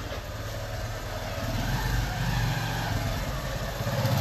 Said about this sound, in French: Attendez le bruit de la moto si ça arrête.